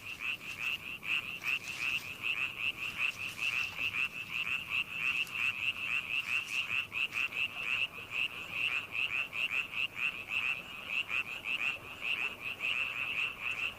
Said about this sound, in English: male Chinese tree frogs engage in croaking tournaments